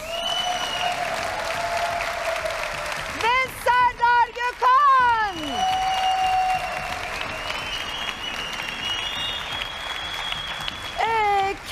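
A television studio audience applauds the guest jurors of a Turkish style competition show, with sustained clapping running beneath a presenter's voice and swelling briefly between spoken phrases.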